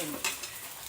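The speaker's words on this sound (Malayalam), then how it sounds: "ഉമ്മ ഇരുമ്പിന്റെ ചട്ടിയിലാണ് അപ്പം ഉണ്ടാക്കുന്നത്." Vellayappam cooks in an iron pan, with a short scrape of a utensil against the metal over a faint sizzle, heard close up and quiet.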